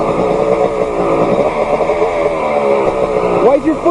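A dirt bike engine revs in a steady, buzzing drone with a rising flick of throttle near the end, while a person talks over it nearby.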